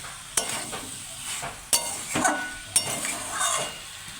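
Soybean and potato curry being stirred in a pan: a steady sizzle with a few sharp spoon scrapes and clinks against the metal, close and fairly loud, no voices.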